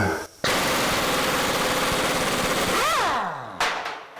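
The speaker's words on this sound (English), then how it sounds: "Gonna get the air impact." A pneumatic air impact wrench rattles loudly in a long continuous burst while removing a fender bolt at the radiator core support of a 1982 Jeep CJ7, then winds down and stops, with no talk.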